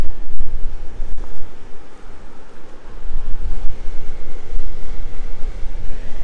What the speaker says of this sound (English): I do love hearing the sound of the rushing water though, it's amazing.